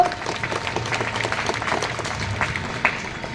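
A crowd at a Maha Shivaratri gathering applauding, dense steady clapping heard close and loud throughout with no talk over it.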